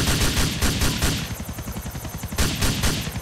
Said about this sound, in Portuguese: vou tentar atirar nesses caras aqui